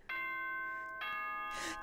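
A two-part electronic announcement chime from the video game Danganronpa, rings out alone: a bright tonal note, a second one about a second later, then a brighter burst at the end.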